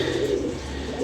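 A pigeon gives a short, close, low coo in a single brief phrase.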